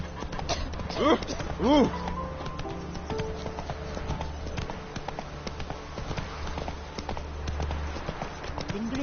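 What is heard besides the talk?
horse galloping, from the video game The Witcher 3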